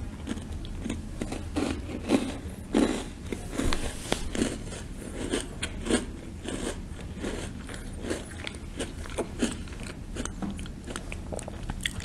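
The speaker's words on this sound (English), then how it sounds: "apologize if you hear any excessive chewing" Chewing food close to the mic, with repeated crunchy bites and mouth noises in an irregular steady rhythm for about twelve seconds, no talking.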